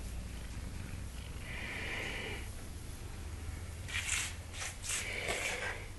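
A cat purring softly up close, a low steady rumble under faint background hiss. Near the end the purr swells and is joined by a few brief snuffling sounds.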